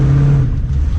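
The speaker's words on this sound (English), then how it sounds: "This is Gary in a 74 Formula. He said it's got a 469 engine in it, and he ran a 1206 on that run." A 1974 Pontiac Formula with a 469 engine runs at a drag strip, its loud, steady engine roar filling the moment with a sustained low rumble.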